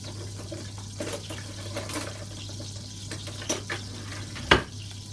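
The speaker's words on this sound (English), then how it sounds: "I'm just going to stir this in so that it sort of, so the butter melts and the sugar starts to melt" A wooden spoon stirs butter and sugar melting in a pan, with faint scraping and soft sizzling over a steady low hum, plus a few small knocks and one sharper clack near the end.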